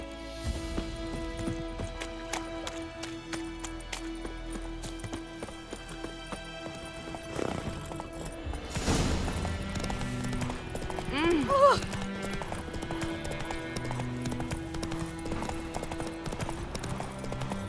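Roach, a horse in The Witcher 3 video game, gallops with rapid, rhythmic hoof clip-clops throughout, under voices speaking and background game sounds.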